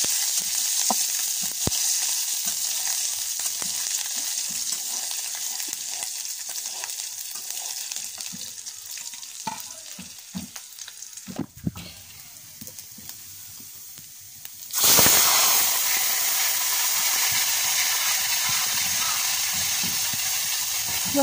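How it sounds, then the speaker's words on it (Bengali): Garlic frying in a pan while cooking chickpea dal with fish head, a constant broadband sizzle and hiss with occasional stirring clatter, growing louder and brighter partway through as the oil spits more fiercely. "রসুনটাকে ভালো করে ভেজে লাল করে নেব।"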